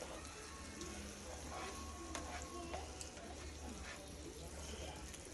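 Meat sauce for crockpot lasagna is stirred, a faint continuous sizzle with scattered spoon scrapes and clicks, quiet and steady throughout.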